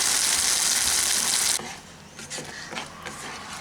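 Spice paste sizzles in hot oil in a pan for a vegetarian paneer dish, a loud broadband hiss for the first second and a half, then dropping to a softer crackle with faint scraping.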